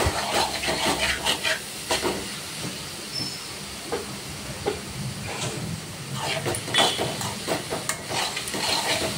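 Grated carrot halwa being stirred in a pan, a steady hissing sizzle with repeated scraping and mixing strokes, close by.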